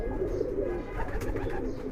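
A pigeon coos in a loft, a close and fairly loud run of soft, throaty coos repeating over a steady low background.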